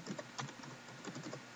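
Quick, close keystrokes on a computer keyboard as a command is entered in a Windows command prompt, a steady patter of clicks alone with no talk.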